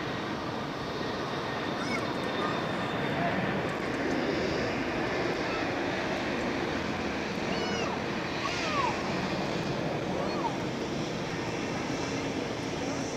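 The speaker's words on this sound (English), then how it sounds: "That's my freighter." A freighter aircraft passes at Zurich Airport, its steady jet engine roar filling the scene at moderate distance, broad and continuous without breaks.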